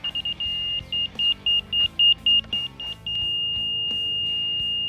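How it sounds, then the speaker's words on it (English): A laser level's high electronic beeper pulses in a series of rapid, then slower chirps before settling into a steady continuous tone, with faint background noise. "this laser is going to beep"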